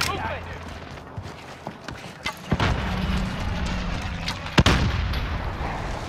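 Call of Duty: Modern Warfare match with scattered gunshots and booming blasts, a few sharp loud cracks standing out over a rumbling background while players talk.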